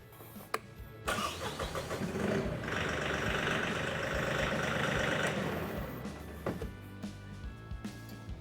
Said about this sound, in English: I'm going to raise the loader and remove the kickstand.